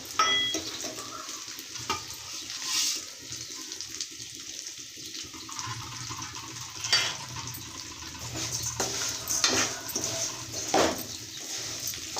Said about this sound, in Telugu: ఒక కప్పు సేమియా ఆ నెయ్యిలోనే దూరగా వేయించుకోవాలా